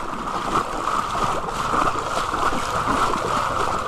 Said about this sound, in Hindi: मोटरसाइकिल डाल दी है दरिया के अंदर, ये निकाल रहे हैं भाई